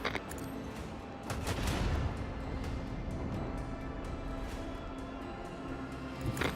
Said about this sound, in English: Unleash the storm of macro cannons.